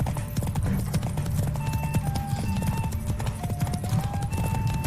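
In The Witcher 3 video game, a horse canters with a continuous rhythmic clip-clop of hooves, close and steady throughout, with game sounds layered over it.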